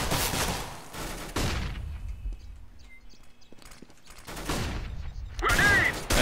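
Gunshots from several guns in Counter-Strike: Global Offensive ring out in loud, sharp bursts at the start and again near the end, with quieter game sounds in between.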